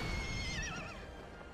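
A horse in the video game Kingdom Hearts 3 lets out a single clear whinny lasting about a second, its wavering pitch rising and falling over a steady game soundscape, with no voices.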